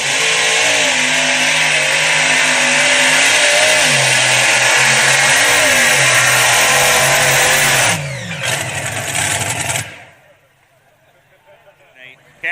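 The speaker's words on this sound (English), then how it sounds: "Supercharged big block Chevrolet's Cotton Candy." A supercharged big block Chevrolet race car roars at full throttle, a loud sustained engine howl that shifts pitch, then cuts off sharply near the end, leaving near quiet.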